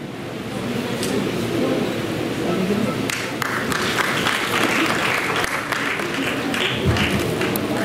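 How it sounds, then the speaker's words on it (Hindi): Audience applause fills an award ceremony for teachers at the East Delhi Municipal Corporation headquarters, a dense, sustained clapping from a large crowd, loud and continuous with a few sharper claps standing out. "एक बार जोरदार तालियों के द्वारा हम इनका सम्मान करेंगे।"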